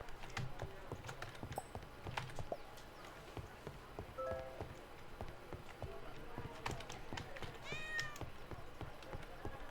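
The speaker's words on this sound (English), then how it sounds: "Not a very happy cat." Repeated plaintive meows from an unhappy cat in the tavern-management video game Traveller's Rest, set against busy in-game ambience with clip-clop hoofbeats and scattered effects, fairly quiet and mixed together.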